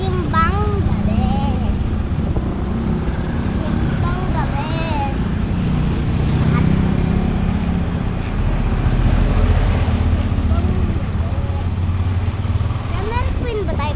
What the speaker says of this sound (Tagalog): Nasa motor na kami ni Daddy.